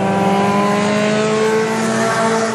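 Hornet-class race cars, including a Honda Civic, run flat out at North Central Speedway; steady, dense engine drone from several cars fills the clip without letting up, with no voices.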